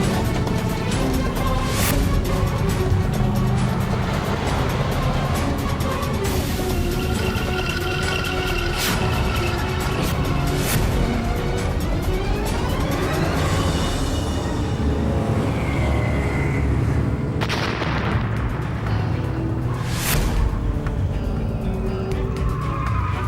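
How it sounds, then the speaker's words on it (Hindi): A car races at high speed with a roaring engine, repeated tire squeals and skids, and passing whooshes, loud and continuous throughout with dramatic scoring mixed in. "ये गाड़ी इतनी तेज क्यों चला रहा है?"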